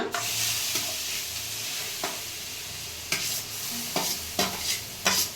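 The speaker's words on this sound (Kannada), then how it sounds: "ಕ್ಯಾರೆಟ್ ಬಂದು ನೀಟಾಗಿ ಫ್ರೈ ಆಗಬೇಕು" Carrots stir-fried in a pan with dry fruits give a steady sizzle, and a spatula scrapes and clacks against the pan in repeated strokes that grow louder toward the end, with no talking.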